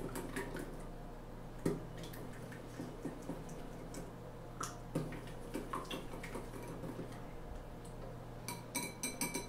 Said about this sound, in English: This is going to be our egg wash. You just have to whisk really well.